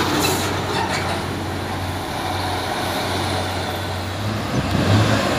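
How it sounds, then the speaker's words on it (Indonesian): A Hino trailer truck hauling a container comes down a steep hill road, its engine producing a loud, steady diesel drone with low rumble, alone without voices. "Yang dari atas ada satu nih truk trailer Hino"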